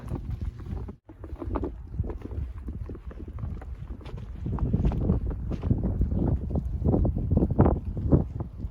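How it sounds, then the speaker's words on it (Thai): Strong wind gusts past the back door of a house on a snowy day. It makes a continuous, rough buffeting rumble against the microphone that swells louder in the second half, with no one talking. "ลมอย่างแรงเด้เนี่ย"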